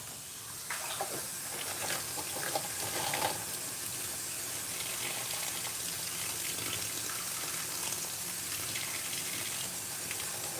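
Running water poured steadily from a hose or tap onto plants growing in a container that has drainage holes at the bottom, a continuous gushing splash close by throughout with no one talking.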